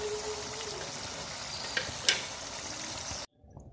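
Potato chips frying in hot oil in a home kitchen, with a steady broadband sizzle that holds for about three seconds and a couple of brief clinks near the middle, then cuts off suddenly to near silence.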